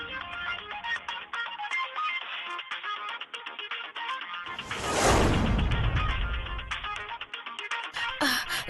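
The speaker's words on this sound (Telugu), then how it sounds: "మనం గొంతుతో మాట్లాడలేకపోయినా మొబైల్ సౌండ్ వినిపిస్తుంది." A mobile phone ringtone plays as a steady tonal melody, joined midway by a loud broadband burst that fades out before the ringing resumes.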